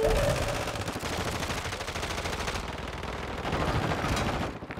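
Continuous loud gunfire in a shooter video game, dense overlapping automatic bursts running almost without pause from start to finish, with no talk over it.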